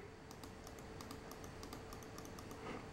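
A TeckNet wireless folding mouse clicks repeatedly, a quick series of light, quiet taps in an irregular rhythm over a faint background hum, close to the microphone.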